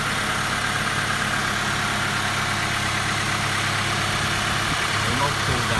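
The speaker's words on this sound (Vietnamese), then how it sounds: "Máy nổ rất êm." A 2010 Toyota Innova G engine idles with a steady, even hum and light vibration, heard close and continuous throughout, with faint voices in the background.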